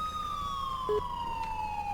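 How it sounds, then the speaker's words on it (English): Police boat siren in GTA 5 during a Coast Guard response, a wailing tone sliding slowly downward, fairly faint and steady across a short stretch with no talk. "You guys can turn off your siren."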